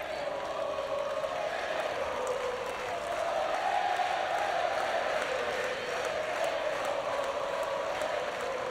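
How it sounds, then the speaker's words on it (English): A large crowd in a tennis stadium at the US Open applauds and cheers after a point, a broad sustained roar of clapping that swells slightly midway and carries on steadily. "You can just listen to the crowd and know who wins each point right now."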